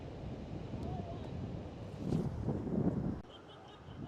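Strong wind gusts buffet the microphone on Bondi Beach, with a steady blustery rush that swells louder in the middle and then drops off abruptly.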